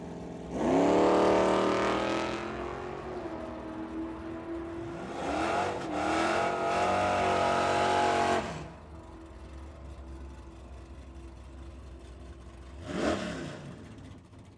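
A Mustang and a Challenger launch side by side down a drag strip. Two engines wail loudly and rise in pitch as they pull away, then fade. A later, shorter burst of revving comes from farther off.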